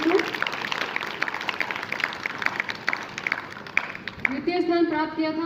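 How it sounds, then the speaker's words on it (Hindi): Audience applause at a Hindi fortnight award distribution ceremony at a school, steady dense clapping filling the room for several seconds before fading as a sustained musical tone or voice rises at the end. "जोरदार तालियों से स्वागत करो बच्चों"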